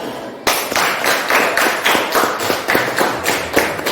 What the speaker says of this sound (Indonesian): Mari kita berikan tepuk tangan kepada kelompok 1.